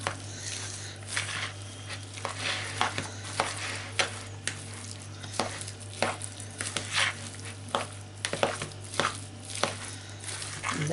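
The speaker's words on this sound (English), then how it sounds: "So all we need to do now is mix everything together." Salmon fishcake mixture with onions and egg yolk being stirred together in a bowl, giving a run of soft, wet, squelchy scrapes and taps at an uneven rhythm, close and fairly quiet, with no talk.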